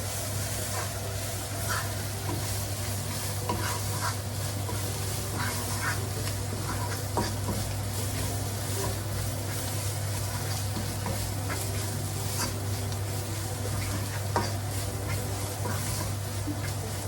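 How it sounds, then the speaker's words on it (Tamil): Mint leaves sauté in a pan for tuna cutlets, a soft, steady sizzle with occasional stirring clicks and a constant low hum underneath. "இது ஒரு 2 minutes வதக்கிக்கலாம்."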